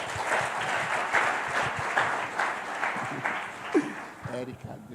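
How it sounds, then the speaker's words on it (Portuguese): Church congregation applauding during an evening celebration service, a dense patter of steady clapping across the whole stretch, with a voice speaking over it near the end. "Aplauda o Senhor."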